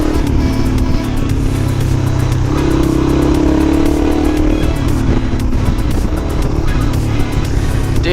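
A Suzuki DRZ motorcycle carves through a run of curves, its engine droning loudly and steadily with swells of revving, wrapped in constant rushing wind noise and no talk.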